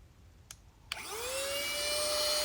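A BestFire cordless car vacuum clicks twice, then spins up with a rising whine into a steady loud motor hum with airy suction noise, heard close with no talk.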